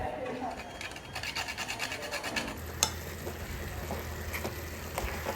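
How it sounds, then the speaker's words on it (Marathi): Nutmeg is grated into a coconut and jaggery modak filling, giving a soft, close scratching rasp with a few light clinks, fairly quiet. "त्यात मी हे जायफळ पण किसून टाकते"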